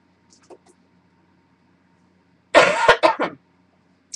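Someone recovering from the flu gives a short burst of harsh, loud coughs, three or four in a row, in an otherwise quiet room, preceded by a faint small sound.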